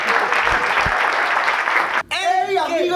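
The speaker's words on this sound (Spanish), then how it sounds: "Un aplauso para Duván Gómez" An audience applauds a guest on a comedy talk show, a dense burst of clapping for about two seconds before it cuts off and a voice begins speaking.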